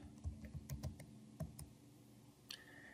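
Typing on a computer keyboard while entering details in Sage X3 inventory software, a short run of soft, close key clicks followed by a pause and a few more taps.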